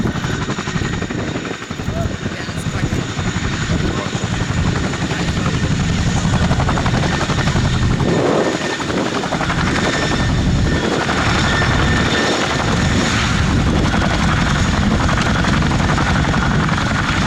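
An RAF Chinook twin-rotor helicopter performing a role demo at the Cosford airshow, its heavy rotor thump and turbine whine loud and continuous as it holds close by.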